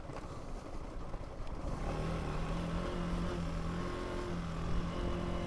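A dirt bike engine drones steadily while riding a sandy, rocky trail, its pitch shifting and climbing as the throttle opens, with wind rush and a few rattles over a fairly faint recording and no talking.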